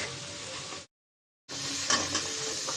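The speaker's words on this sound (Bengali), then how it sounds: "লবণ মশলাটা এখন ভালো করে কষাই নিব" Spice paste with salt being stirred and fried in a pan for a Bangladeshi pangas fish and potato curry, heard as a soft steady sizzle with faint scraping, cut by a brief silent gap before it resumes.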